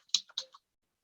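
Quick burst of about four computer keyboard keystrokes, crisp and close, in a command-line workshop setting, then silence.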